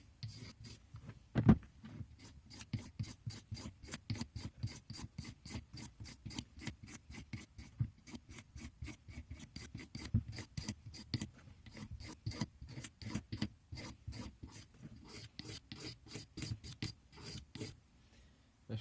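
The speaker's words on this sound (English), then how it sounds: "let's get into the scraping of this handle." Sharp blade scraping old varnish and finish off a wooden 7-inch hammer handle, a steady run of quick rasping strokes close up, repeated rhythmically throughout with no talking.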